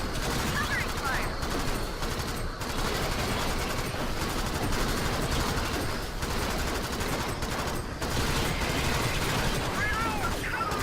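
Sustained automatic gunfire from the sci-fi shooter Alien Swarm: Reactive Drop roars loud and nearly continuous, with rapid overlapping bursts and mechanical clatter, and voices are heard briefly in the mix.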